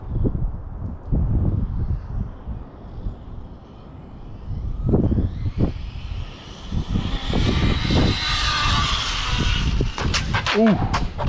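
A Traxxas 4tec 2.0 AWD brushless RC car with a Ford Mustang body speeds past, its rising high-pitched motor whine building over the second half amid wind noise, with people talking and exclaiming throughout.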